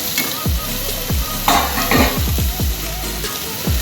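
Tomatoes hitting a hot pan of potato and capsicum curry, a steady sizzle with scraping stirs and clinks of a utensil against the pan, no talk.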